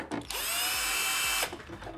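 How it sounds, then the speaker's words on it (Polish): A power screwdriver tightens screws on a Saeco coffee machine part, a steady high whine lasting about a second after a brief click, then faint handling noises. "I dokręcam śrubokrętem."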